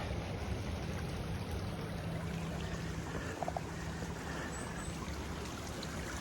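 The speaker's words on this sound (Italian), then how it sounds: "altra acqua che scende e esce da dentro la montagna" Water flows out from inside the mountain at the Oliero caves in Italy, a steady broadband rush like a stream that holds constant throughout at moderate level, with no talk over it.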